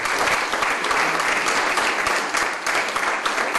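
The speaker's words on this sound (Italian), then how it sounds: "Lunghi applausi nella sala gremita del Cinema Astra al termine dell'anteprima." A packed cinema hall breaks into long, dense applause at the end of a film preview, with continuous loud clapping from a large audience.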